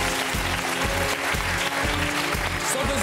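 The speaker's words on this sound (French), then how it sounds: "Allez, on applaudit Michael Hulot pour commencer." Studio audience applauding steadily on a French television show, loud continuous clapping with a rhythmic musical beat pulsing underneath throughout.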